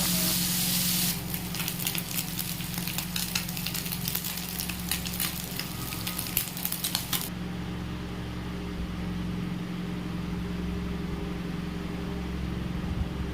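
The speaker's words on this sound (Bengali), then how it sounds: "এবার আমি মৌরলা মাছগুলো ভেজে নেব।" Small mourala fish fry in a pan of oil with a loud, crackling sizzle for about seven seconds, then settle into a softer, steady bubbling hiss that carries on alone.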